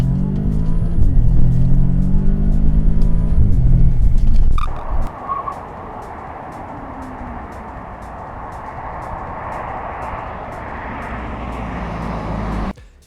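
An Audi S3 with new EBC Yellow Stuff pads and rotors accelerates hard in a parking lot, its engine revving loudly through rising gears, then cuts off abruptly into a quieter rolling rumble and road noise as it brakes and coasts.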